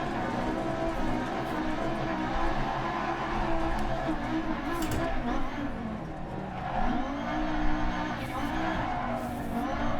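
Racing car engine roaring steadily, close and loud, with pitch dips marking crisp gear shifts and a faint squeal of tires under the drone.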